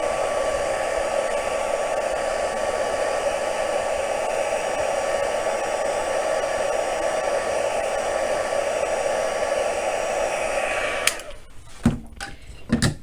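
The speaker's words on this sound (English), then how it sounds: "you can actually help them dry just a little bit faster by heat tooling them here" A craft heat tool blows steadily and loudly for about eleven seconds, drying ink on a paper card, then shuts off abruptly and a few faint handling clicks and taps follow.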